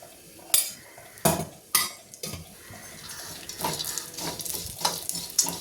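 Dry fruits, pistachios among them, roast in ghee in a pan while a spoon stirs and clinks against the metal, with a soft sizzle running underneath and a few sharp scrapes near the start.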